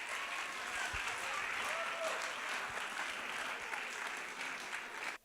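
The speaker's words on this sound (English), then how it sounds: "give those lovely people standing up a huge round of applause and thanks" Children aged 8 to 12 at an educational workshop give a round of applause, a sustained crowd of small hands clapping steadily for about five seconds before it cuts off abruptly.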